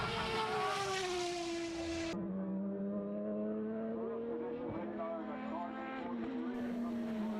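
Formula BOSS race cars on a circuit at the Leinster Trophy, high-pitched engines droning loudly past with falling pitch as they go by, overlapping one another steadily under a commentator's voice.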